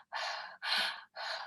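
Three slow, deliberate breaths drawn in through the mouth, each a broad airy rush lasting about half a second with short pauses between, close and soft, with no talking.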